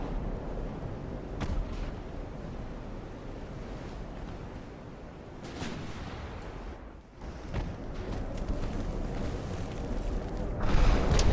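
Naval gunfire hitting a ship in the warship game Ultimate Admiral: Dreadnoughts, heard as a steady roar of sea and wind with several deep booming shell impacts and blasts rising out of it.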